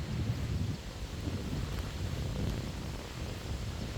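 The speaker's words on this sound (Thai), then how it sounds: "ยินเสียงลม" Wind blows steadily through a mushroom forest, a continuous low rumbling rush with faint rustling, close to the microphone and with no voices.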